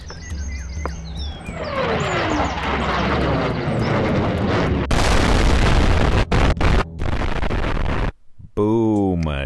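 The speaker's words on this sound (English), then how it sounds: "grabbed myself a nuclear sound blast effect" Nuclear blast explosion sound effect: a swelling roar with a rising rumbling burst that rolls on loudly for several seconds, breaking into sharp cracks and cutting out near the end before a short tonal tail.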